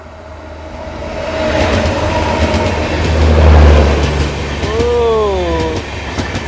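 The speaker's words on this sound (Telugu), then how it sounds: "7 Hills ఎక్స్ప్రెస్ అయితే వస్తుంది, సికింద్రాబాద్ తిరుపతి" The 7 Hills Express, running Secunderabad to Tirupati, rumbles past on the opposite line with a steady roar of wheels and a deep low hum, swelling at mid-pass, then a rising whistle-like tone near the end.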